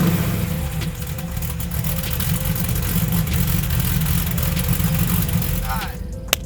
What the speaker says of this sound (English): The lovely sound is brought to you from Hooker Headers, 3-inch Corsa resonator, and a MagnaFlow muffler